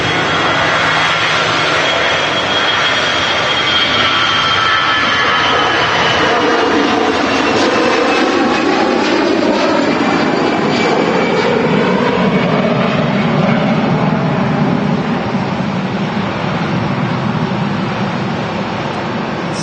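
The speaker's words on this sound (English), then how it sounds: "From one EasyJet A320 arrival, we have an A320, another EasyJet depart." An EasyJet Airbus A320 jet departing Manchester Airport, a loud continuous engine roar that shifts pitch as it passes and climbs away, with rising and falling whining tones over heavy broadband rumble.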